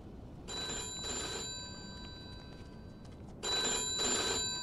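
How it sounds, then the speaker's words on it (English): An old-fashioned telephone bell rings in the Mafia 2 video game, sounding two double-ring bursts separated by a pause over a low background hiss. Nobody speaks. "Let me answer that young phone real quick."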